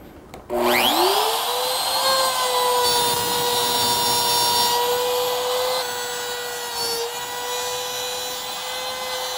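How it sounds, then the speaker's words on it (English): A handheld router spins up and cuts into wood to rough out an inlay, holding a loud, steady high-pitched whine with a faint grinding cut underneath. "I just put two holes in it so I can get the bushing, or rather the router, to start cutting into here"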